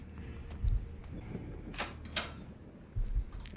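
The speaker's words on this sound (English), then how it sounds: "the door sounds when opening them also sound different" Doors opening in the video game Generation Zero, several short thuds and sliding scrapes with brief metallic clicks, spaced irregularly over a quiet background.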